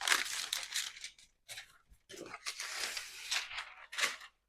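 Baking paper rips and crinkles in several close, bright bursts separated by short pauses, loud and crisp throughout.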